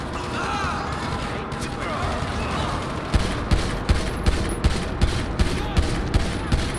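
Gunfire in GTA V with a chaos mod running, heard as a steady rhythmic volley of shots over dense background noise and action, with people talking throughout.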